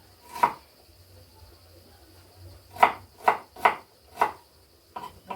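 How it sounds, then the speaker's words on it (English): Onions are chopped with a knife into medium pieces. A handful of sharp, close knocks of the blade on the board come singly and then in a quicker run of four, with near-silence between them. "I like chopping them, not round, but a little bit small, not that too small, medium size."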